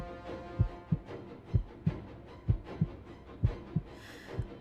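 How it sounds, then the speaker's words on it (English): Heartbeat sound effect in the Hakuoki visual novel: a steady, low double-thump pulse repeating about every second and a quarter, close and alone with no speech over it. "A silence so thick I could hear my heart beat."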